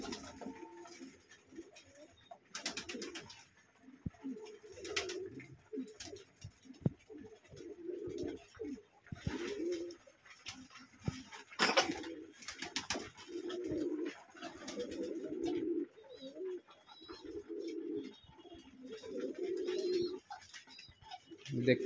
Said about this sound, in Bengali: বাকি যে কবুতরগুলো সবগুলোই খাবার খাচ্ছে।